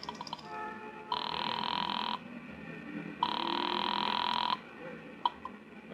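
An old telephone line rings after a number is dialed on a coin payphone, two long buzzing rings about a second each with a short pause between, alone and at moderate volume.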